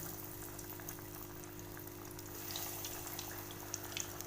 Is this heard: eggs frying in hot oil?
yes